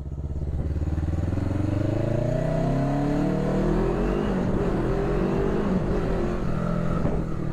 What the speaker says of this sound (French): On va se faire une petite accélération dans le tunnel.